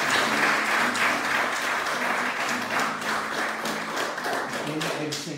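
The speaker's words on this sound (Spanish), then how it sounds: "Un aplauso porque ya están confirmados." A church congregation applauds the newly confirmed at a confirmation service, a steady, dense clapping that keeps going throughout, with a voice speaking faintly underneath.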